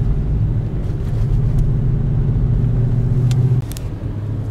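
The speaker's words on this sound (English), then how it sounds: "Whereas the V8 sound, it's got that bass to it as well." A Mercedes AMG with a cross-plane V8 idles and rumbles close by at a car club cruise in Australia, giving a deep, steady bass throb that dips slightly in level near the end.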